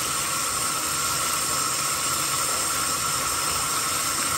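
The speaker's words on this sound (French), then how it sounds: "Désolée pour le bruit du bain, la gang, c'est parce que je m'apprête à prendre le bain." Water runs steadily into a bathtub as a bath is drawn, a continuous close hiss and rush with no break and no voices.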